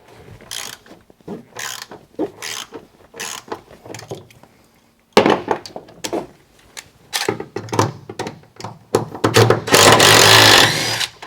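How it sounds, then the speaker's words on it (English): A power drill driving screws inside a 2024 Sprinter van: short whirring and clicking bursts, then a louder sustained drill whine near the end, close and alone. "I'm going to go back with the drill and just do the good work with that guy."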